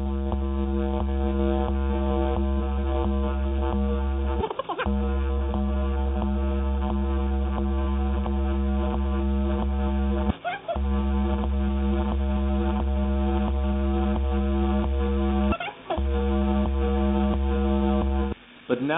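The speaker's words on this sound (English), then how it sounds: "That sounds particularly good if you cut the RPMs down to about a quarter of normal" A vinyl record played at about quarter speed on a DJ turntable gives a slow, deep, droning tone with heavy low harmonics, sustained and smeared, broken by three brief dropouts.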